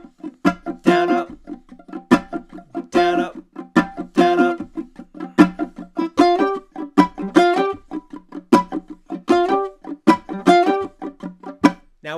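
Funk strumming on a ukulele in a steady down-up pattern, with bright, percussive strokes in an even, rhythmic groove, played alone, close and clear.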